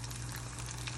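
Chicken frying in hot cooking oil, a dense, steady sizzle close by and fairly loud, with no voices.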